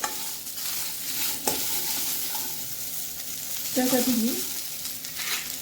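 Onion roasts and gets stirred in a pan after dry coconut for a black-masala chicken sukka, giving soft sizzling and scraping stir sounds with a brief louder fry burst, while someone speaks briefly.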